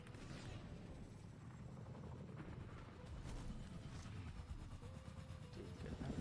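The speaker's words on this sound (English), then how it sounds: "get out of this helicopter" A helicopter in Fortnite drones steadily with a thumping rotor, heard fairly close beneath game sounds such as distant shots and booms, and it stays continuous the whole time.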